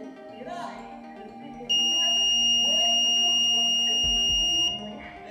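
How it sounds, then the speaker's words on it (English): An ESP8266 NodeMCU gas leak detector with an MQ-4 sensor sounds its buzzer: a loud, steady high electronic tone holds for about three seconds and then stops, with faint background sounds before and after. "The buzzer activates to generate an audible alarm."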